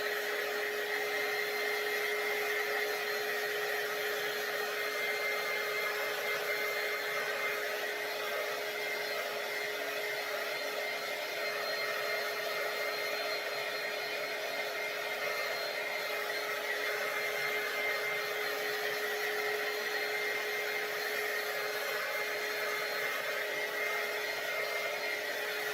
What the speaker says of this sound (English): Let's go ahead and let's dry it just a little.